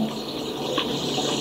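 Warm volcanic hot spring water flowing steadily in the Caribbean, a continuous broadband rush like a running tap, close and even throughout with no talking.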